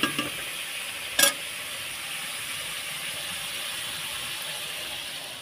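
Fish frying in a pan gives a steady sizzle throughout, with a brief sharper clatter early on as it is turned over; no one speaks.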